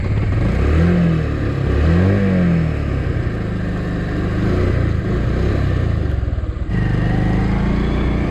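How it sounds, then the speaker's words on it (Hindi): A motorcycle engine runs loud and close, revving up and down at first before settling into a steady rumbling idle, with no voices. "तो चलिए फाइनली स्टार्ट कर लेते हैं बाइक को"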